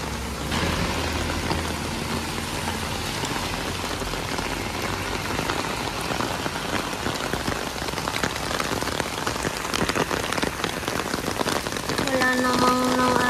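Heavy rain pours steadily onto a surface outdoors, a dense and continuous hiss close by. An engine idles faintly beneath it, and a few tonal sounds rise near the end.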